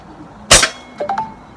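A single sharp crack from an air rifle firing a pellet comes close and loud, followed by a brief faint metallic ping and rattle as the shot lands downrange, over quiet background.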